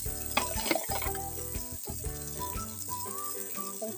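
Eggplant pieces frying in refined oil in a pan, a steady close sizzle with occasional stirring rattles beneath a layer of background music.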